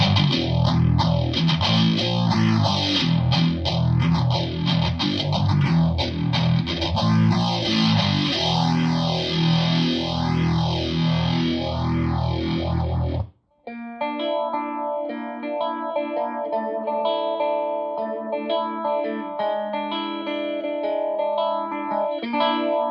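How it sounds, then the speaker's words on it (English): Electric guitar with distortion played through an Electro Harmonix Small Stone phaser pedal. A thick, sustained distorted chord sweeps up and down in steady repeating whooshes, then cuts off into cleaner picked notes with a slower, gentler phase sweep. "Let's get started with the Small Stone"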